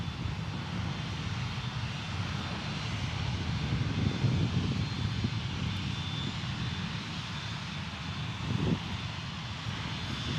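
Airplane at Dallas Love Field airport, a steady broad engine roar rumbling continuously at moderate distance, holding level throughout with a slight swell midway.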